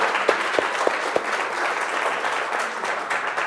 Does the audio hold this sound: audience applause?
yes